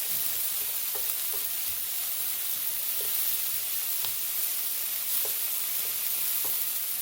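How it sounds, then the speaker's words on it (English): Pink salmon fries in a pan under a steady, even sizzle and hiss, with light stirring taps scattered throughout at moderate distance and no talking. "we're going to stir it up more. It's almost cooked, almost."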